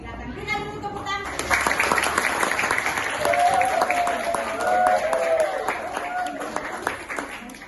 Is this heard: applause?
yes